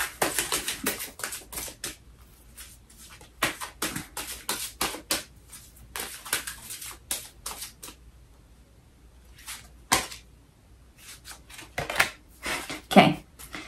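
Repeated papery riffling and flicking of tarot cards being shuffled, close and fairly crisp, coming in uneven bursts with short pauses between.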